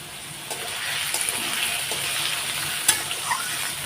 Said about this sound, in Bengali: এখন আলুগুলো আমি লাল লাল করে একটু ভেজে নেব